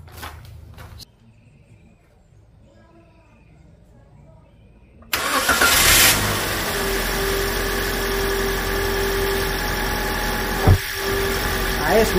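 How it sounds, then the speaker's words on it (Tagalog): Toyota Avanza car engine cranking after a battery problem and catching at once, then settling into a loud, steady idle up close, with a brief voice before the start. "Subukan natin ngayon mag-start mga idol."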